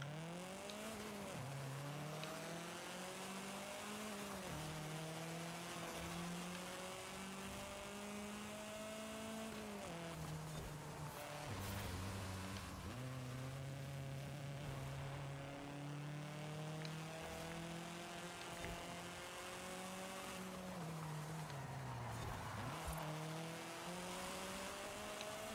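A car driven in Forza Horizon 5 hums with a steady engine drone that rises and falls through gear shifts, continuous and fairly close with no talk over it.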